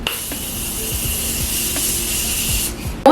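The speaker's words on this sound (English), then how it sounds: "spray it down with the Morphe Continuous Setting Mist" A Morphe Continuous Setting Mist is sprayed onto a face in one long, steady close hiss lasting almost three seconds, then it stops abruptly with a brief clatter at the end.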